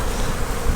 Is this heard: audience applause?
no